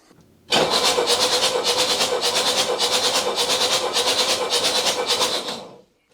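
A Mercedes-Benz S123 300TD diesel with about 720,000 km on it cranks on the starter for roughly five seconds, a loud, close, steady rhythmic chug that never catches, then stops.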